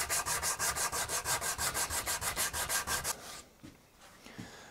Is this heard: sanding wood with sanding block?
yes